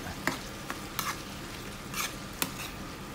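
A spoon stirs chicken pastil in a frying pan, giving several sharp scrapes and clinks over a soft, constant sizzle, no talking.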